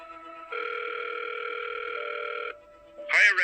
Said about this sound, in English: He rang Rachel.